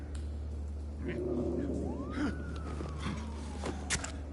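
A police car siren wails at mid-distance, its tone sweeping up and then slowly falling over a few seconds above a low steady rumble, with no one talking.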